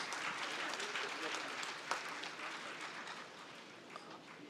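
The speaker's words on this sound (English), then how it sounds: "Applause, please." Audience applause at a live awards ceremony, a steady broad wash of many hands clapping at moderate distance, sustained for several seconds without a clear break.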